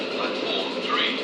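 A Class 700 train bound for Three Bridges passing South Croydon on the slow line, a steady broadband rumble and hiss of rolling stock, fairly close and continuous throughout.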